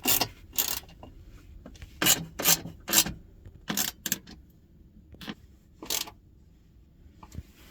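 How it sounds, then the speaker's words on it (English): Torx T30 bolt being tightened on a Mercedes Sprinter with a hand tool, giving close, short scraping and rasping strokes in an irregular rhythm with quiet gaps between them. "Go ahead and tighten it up."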